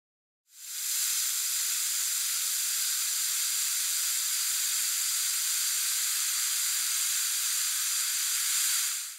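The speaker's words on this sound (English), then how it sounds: "So I'm going to turn on the glass hot water kettle here." A glass electric kettle heats water with a steady, even hiss that rises from silence and holds for several seconds, close and alone with no talking.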